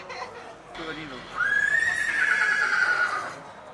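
A horse at a livestock market in Kyrgyzstan gives a loud, sustained whinny lasting a couple of seconds, rising out of the crowd murmur and talk around it.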